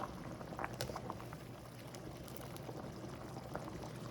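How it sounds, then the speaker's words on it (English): Pappardelle pasta is lifted from a pot of boiling water into a pan, a soft, continuous bubbling and wet pouring hiss with a few small splashes, fairly quiet and without speech. "now I'm going to add from this pot my pappardelle pasta"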